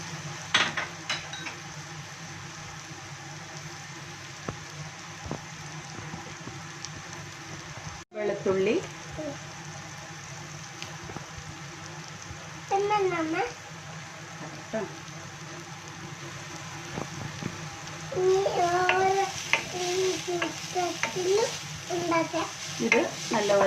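Finely chopped ginger, garlic and green chili sauté in oil in a pan, a low continuous sizzle with occasional utensil clinks and scrapes, while a voice talks intermittently over the cooking in the second half.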